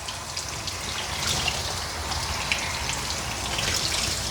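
Water rinsing a Shih Tzu during grooming, a steady close hiss of spraying water running unbroken throughout with small splashy fluctuations.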